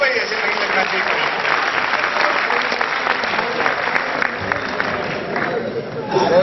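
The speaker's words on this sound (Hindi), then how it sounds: "जोरदार तालियां बजाओ भाई" Audience at a Hindi poetry recital bursts into steady, sustained applause, loud and close, with crowd noise mixed in throughout.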